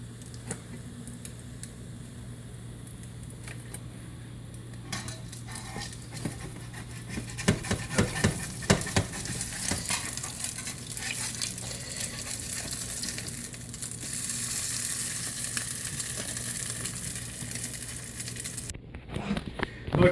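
Salmon patties frying in hot oil give a steady sizzling hiss over a low constant hum. The sizzle grows louder and denser toward the end, with scattered crackles throughout and no voices.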